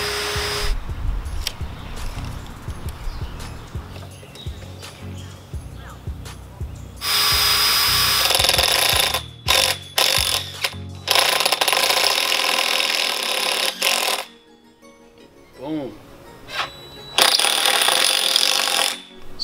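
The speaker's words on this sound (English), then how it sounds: "Screw there and there. Through the 4x4, through the pipe, makes it very secure." A power drill drives screws through a wooden 4x4 post and metal pipe on a backyard pull-up bar build, with loud whirring bursts separated by short pauses and ratcheting clicks.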